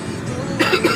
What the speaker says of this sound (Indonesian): baru batuk sekarang